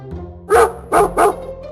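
Three quick, loud dog barks in a row from a cartoon dog chasing a runaway mango in an animated children's story, heard up close with no talking.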